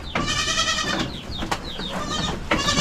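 A pen crowded with goats bleating loudly and often, overlapping wavering calls close by, one after another with hardly a pause.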